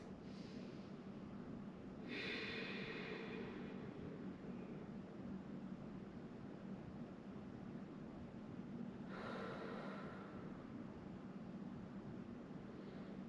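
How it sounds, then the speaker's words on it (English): Two big breaths during a barre workout cool-down, each a soft breathy rush a few seconds long, faint and close over steady low background noise. "take a few big breaths"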